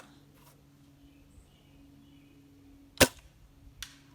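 A sharp single impact as an airsoft BB from an M24 Snow Wolf sniper rifle strikes a bucket, with fainter clicks before and a smaller tap after, against quiet background.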